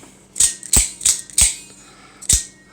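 Sharp metallic clicks and snaps from the spring mechanism of an OTF knife, four quick ones then a last one after a pause, close and loud.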